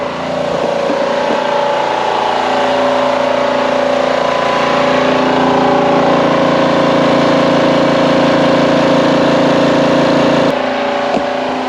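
PCP 4500 PSI air compressor filling a paintball cylinder, a loud steady mechanical drone with a constant hum, close and unbroken, ending with a brief click near the end; no talk.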